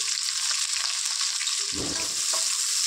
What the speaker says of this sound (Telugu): ఇది మంచిగా ఫ్రై చేసుకుందాం. ఇది మంచిగా ఫ్రై అవ్వనిద్దాం ఫ్రెండ్స్ ఆనియన్స్.